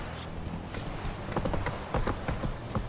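Roach, the horse in The Witcher 3, trots along with a steady run of hoof clip-clops under a dense wash of game ambience, fairly close and continuous throughout.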